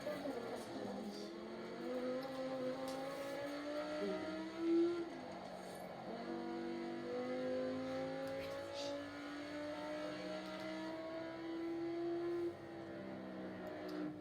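An Audi R8 in the racing game Forza Horizon 4, its engine droning and revving in rising, shifting tones over the whole stretch, steady and moderately loud, with a faint voice in the background.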